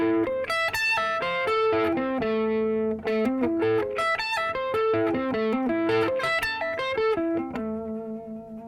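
Fast sweep-picked arpeggios on a distorted electric guitar, bright rolling note runs climbing and falling across the strings in a steady stream, loud and close with no talking.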